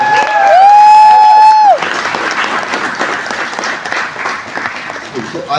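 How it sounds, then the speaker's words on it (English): A loud sustained tone cuts off, then a crowd at an on-stage conversation with a film director breaks into broad applause that carries on at a steady level to the end. "can we have a round of applause for Hemanth Rao?"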